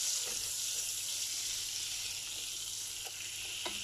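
Butter melting into a spoonful of hot oil in a kadhai on a stove gives a steady, bright sizzle that stays even throughout, with a few faint clicks and pops and no talking.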